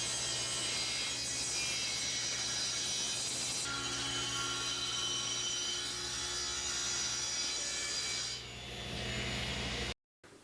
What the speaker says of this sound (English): it's much safer to rip it to its final width on the table saw